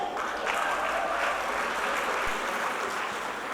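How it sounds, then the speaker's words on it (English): Steady, dense applause rolls from a large audience at a film festival closing ceremony, a continuous wash of clapping filling the hall without pause. "Can I hear an applause if you like the Angels session?"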